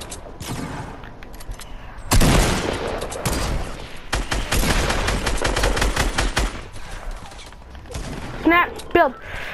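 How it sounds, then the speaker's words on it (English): Gunfire in the video game Fortnite, with sharp bursts of rapid shots and single cracks that come loud and close, followed by a few short whistling effects near the end, while players talk during the fight. "They're getting shot from somewhere else."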